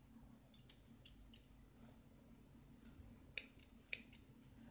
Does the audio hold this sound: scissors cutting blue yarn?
yes